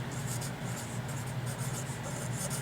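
A marker or chalk scratches steadily across a board during a college algebra lesson on complex numbers, a faint, continuous rubbing with short strokes and pauses, heard alone in a quiet room.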